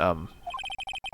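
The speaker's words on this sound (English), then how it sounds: "I heard a phone ring just now, one of those newfangled ringtones." A short electronic phone ringtone from the Phoenix Wright Ace Attorney game, a fast run of bright beeping tones following a brief burst of voice.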